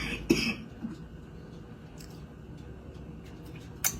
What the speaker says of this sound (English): I get hot, I start coughing.